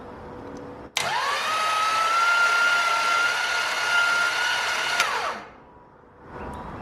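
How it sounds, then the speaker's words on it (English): A starter motor cranks a 1948 Ford hot rod engine with its spark plugs removed, giving a steady, close, loud whine that holds for about four seconds before winding down. No one talks. "I'm gonna check some flywheel engagement, make sure this thing rolls over nice and smooth."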